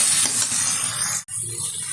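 Jackfruit curry sautéing and being stirred in goat fat in a pan, a steady close sizzle and hiss running throughout with the scrape of stirring, briefly cut off near the middle.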